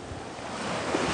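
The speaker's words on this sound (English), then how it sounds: "Look at that wave coming in." Ocean surf washing in steadily at sunrise, a broad continuous wash of breaking water with some wind noise on the microphone, building slightly in loudness toward the end.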